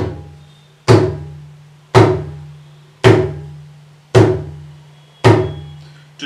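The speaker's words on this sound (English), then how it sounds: "and that is the sound of Dhum." Five mridangam Dhum strokes on the left side, struck between the outer and inner frames. Each booming, resonant hit rings low and lingers before the next, in an even rhythm with no voice.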